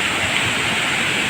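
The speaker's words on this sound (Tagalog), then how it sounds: "Andito na kami sa Balagbag Falls." Balagbag Falls gives a loud, steady roar of falling water, a dense close wash of sound with no break and no voices.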